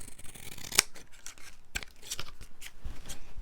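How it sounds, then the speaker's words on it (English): Scissors snipping through paper along a straight edge for a junk journal, a series of crisp close cuts at an uneven rhythm with soft rustling of paper between them, no talking. "I've got a nice straight edge to follow now, so I should be okay with my scissors"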